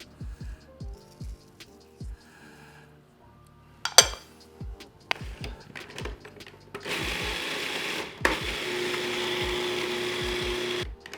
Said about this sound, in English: It's difficult working this food processor from this angle.